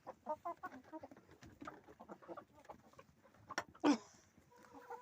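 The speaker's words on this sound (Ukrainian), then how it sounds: "Наші курочки." Chickens cluck softly inside a coop in the evening, a cluster of close, quiet, irregular clucks and murmurs with one louder squawk near the end.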